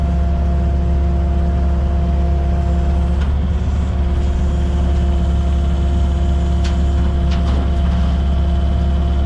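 Several trucks sit waiting at a snowy contaminated-soil cleanup site with engines idling, a loud steady low diesel rumble close by, with faint clanks now and then.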